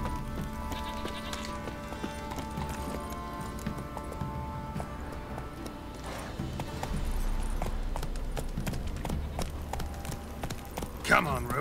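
A horse's hooves clip-clop steadily in The Witcher 3 video game, mixed under game music and ambient sounds.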